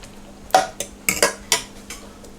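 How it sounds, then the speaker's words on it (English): A utensil stirs egg muffin mixture in a bowl, making a handful of sharp, close clinks and scrapes against the dish at an uneven rhythm, with no talking. "Stir it up a little bit"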